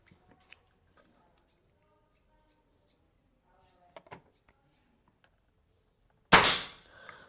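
A single sharp air gun shot from a Black Ant or CFX double plenum air rifle rings out near the end, loud and close, with a brief tail after a few faint clicks and quiet handling.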